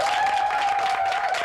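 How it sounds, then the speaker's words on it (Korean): A short burst of applause from a Korean army special forces gathering, steady clapping throughout with a faint tone running beneath it. "박수!"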